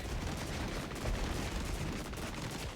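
Friendly mortar and artillery fire in the WWII tactics game Regiments, a dense continuous roar of distant explosions and gunfire rumbling steadily throughout.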